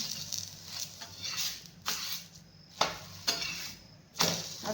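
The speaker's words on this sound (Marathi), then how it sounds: "असा असा खाली वर करून आपल्याला हा पराठा भाजून घ्यायचा आहे" Paratha roasts on a hot pan with a soft, close crackle and a few brief scraping bursts as it is flipped and pressed, quiet and without speech.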